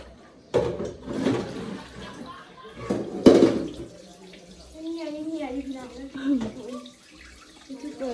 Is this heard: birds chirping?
no